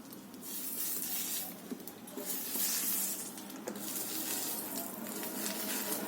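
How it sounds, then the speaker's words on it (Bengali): Pitha rice cakes fry in oil in a home kitchen, giving a continuous crackling sizzle with soft spattering bursts that rise and fall throughout. "আমার মা দেখো পিঠে ভাজতে শুরু করে দিয়েছে।"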